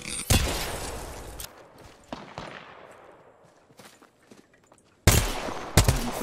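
Gunfire in Apex Legends Mobile: a loud burst at the start, then scattered lighter shots trailing off into quieter game noise, before two more sharp loud blasts near the end.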